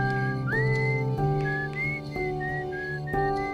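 Esker's whistle melody from the video game Outer Wilds, a clear sustained whistled tune with gliding notes over a steady instrumental backing with regular beats, no talking.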